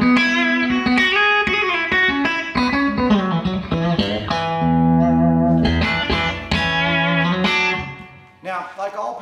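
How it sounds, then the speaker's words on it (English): An electric guitar runs through a Providence Velvet compressor pedal, playing loud, sustained chords and single notes with even, smooth dynamics and a natural full tone, heard alone without talk. "But it's a really natural sound compressor. It doesn't thin your tone out at all"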